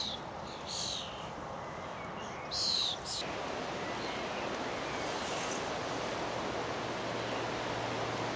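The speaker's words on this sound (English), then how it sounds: "Can you hear the rain?" Steady rain falls over a garden as a dense, even hiss that fills the whole scene, with a couple of brief bird calls near the start and no talking.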